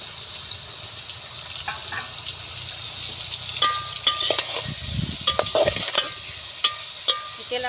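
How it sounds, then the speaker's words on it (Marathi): Washed soya chunks frying in oil in a home kitchen, a soft continuous sizzle with scattered clinks and taps of a spoon against the pan, close and moderately loud, with no speech. "वडी धुवून घेतली तेलामध्ये थोडी होऊन घ्यायची"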